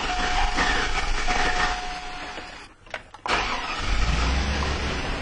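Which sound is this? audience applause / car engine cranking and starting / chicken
car engine cranking and starting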